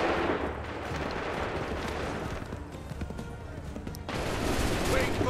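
Musket volleys crack out in Assassin's Creed 3, a dense barrage of overlapping gunshots and rumbling booms rolling continuously, swelling louder near the end against battlefield noise.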